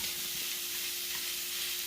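Ground beef sizzles as it cooks in a skillet, making an even, hissing fry noise that holds steady from start to end over a faint low hum, with no one talking.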